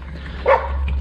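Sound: dog barking

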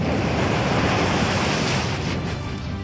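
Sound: strong wind weather effect in Pokémon video game

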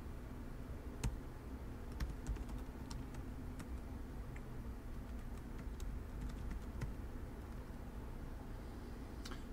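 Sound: typing a password on a computer keyboard

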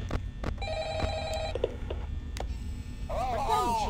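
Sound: telephone ringing in video game Five Nights at Freddy's

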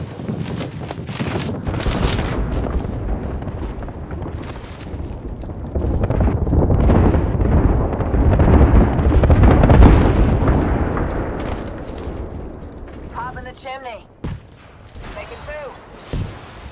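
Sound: airstrike explosions in the video game Apex Legends

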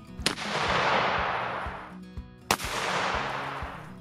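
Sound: Arisaka Type 38 6.5x50mm rifle shot

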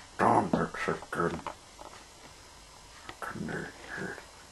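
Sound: dog growling

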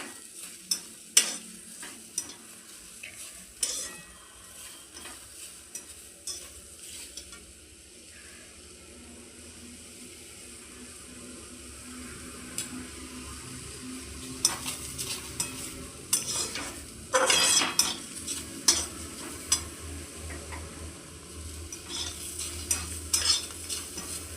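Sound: onions being stirred and sautéed in a pan

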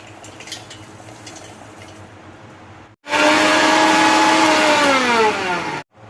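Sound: mixer grinder grinding roasted peanuts, sesame and cumin

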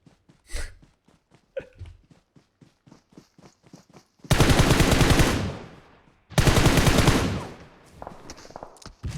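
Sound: gunfire at a tank in video game PUBG Mobile

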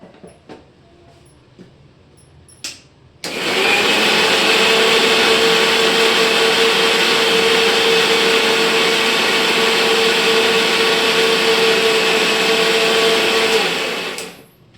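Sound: mixer grinder grinding masala spices

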